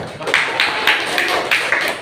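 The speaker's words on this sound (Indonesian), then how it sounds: "Kita tepuk tangan untuk kelompok 1" Classroom of students clapping for a group, a dense patter of many hands with a few stronger bursts, fairly close and steady for about two seconds.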